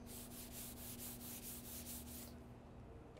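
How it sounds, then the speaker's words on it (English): A hand drags across rough, heavily contaminated, dull car paint, giving a close, steady gritty scraping in rhythmic strokes like coarse sandpaper that stops near the end. "the paint sounds like 80 grit sandpaper"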